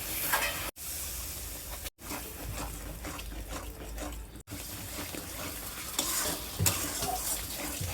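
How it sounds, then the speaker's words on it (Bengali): Coconut, mustard and green chili being sautéed in a pan, a continuous close sizzle with stirring, briefly cut off a few times. "ভুনা নারিকেল সরিষা কাঁচামরিচ এখানে আছে কষিয়ে নেব"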